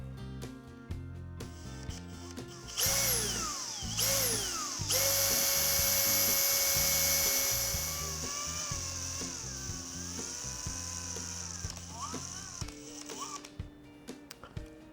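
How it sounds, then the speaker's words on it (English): Power drill fitted with a paddle mixer churning joint compound for a photography studio cyclorama wall, starting in short bursts, then a long sustained whine that slows and wavers, ending in a few brief pulses before stopping. "get a mixer for your drill and do it that way"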